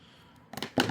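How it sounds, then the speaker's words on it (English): A few quick crisp snips, two or three short cutting sounds close up after a quiet start. "if you want to just use your scissors, I just give it a little trim this way"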